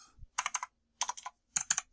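Bursts of rapid clicky keystrokes on a metal-bodied Rampage Orion KB-R90 mechanical keyboard with blue switches, three short flurries of typing separated by brief silences, close and fairly quiet.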